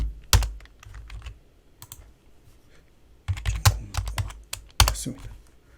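Computer keyboard keystrokes, including Ctrl+D shortcut presses, come as crisp close clicks in scattered single taps and short quick clusters, with brief pauses between groups.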